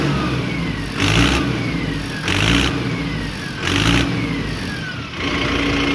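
Diesel engine of a Mahindra Arjun Ultra-1 555 DI 50 HP tractor, revved in three or four repeated surges above a steady idle, close and fairly loud with no talk.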